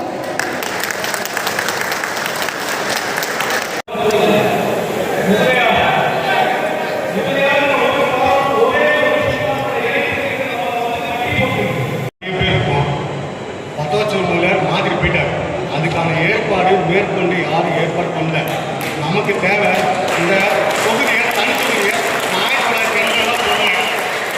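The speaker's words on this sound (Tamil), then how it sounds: "நம் அனைவரும் ஒரு பெரிய கைத்தட்டல் கொடுத்து ஊக்குவிக்கலாம்." A crowd at a public meeting claps steadily and loudly in a sustained round of applause, with a short break partway through, and voices mingle with the clapping.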